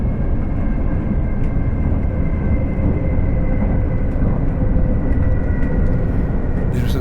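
A Class 802 train in a train simulator runs steadily between Exeter and Paignton near Starcross, with a loud continuous rumbling drone and a faint tonal whine holding throughout, no voices over it.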